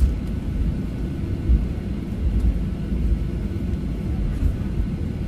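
Jet airliner at an airport in Indonesia, taxiing on the runway before takeoff: a steady low engine rumble, continuous and fairly loud throughout, with no voices.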